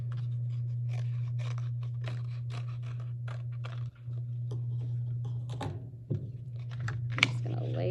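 Scissors cut out a paper owl wing in a run of irregular, close clicks, crunches and papery scrapes over a constant low hum.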